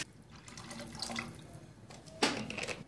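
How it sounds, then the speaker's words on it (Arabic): Water poured from a tap into a pot for lentil soup with broccoli, a soft running splash that swells into a louder gush near the end, close and without talk. "هلا بضيف لهم الماء."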